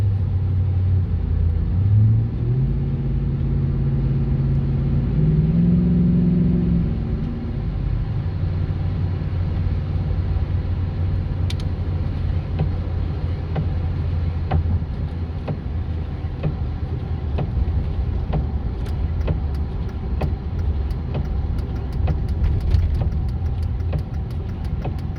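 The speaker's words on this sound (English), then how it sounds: "And then when I turn it back off, it shifts through all the gears." A red 2009 Ram 2500 pickup with a 5.7L engine runs and shifts through its gears, low engine drone rising and dropping in steps early on, then settling into a steady rumble, close and fairly loud with no talking.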